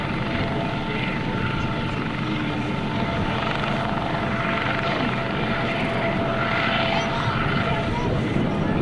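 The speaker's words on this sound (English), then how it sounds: "A typical SAR scenario involves launching a Dauphin helicopter from a nearby Coast Guard air station." A Coast Guard HH-65 Dauphin helicopter flies at an airshow, its rotor and turbine producing a constant loud whirring drone with pulsing blade beats, while a voice talks over it.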